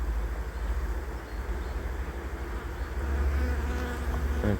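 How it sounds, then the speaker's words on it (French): Calm honeybees, winter bees of an autumn colony, hum steadily from an open hive with brood frames, a dense close buzz that swells slightly toward the end, with no voices. "Donc les abeilles sont très calmes."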